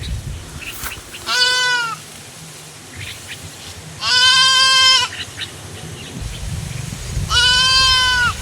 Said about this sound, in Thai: ได้ยินเสียงแพะมันร้องอยู่พอดีเลย